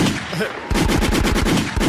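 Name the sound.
gunshot sound effect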